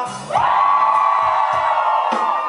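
A concert crowd at a show in Dourados, Brazil, erupts into loud shouting and cheering. The roar is sustained and massed, with a few louder whoops rising out of it.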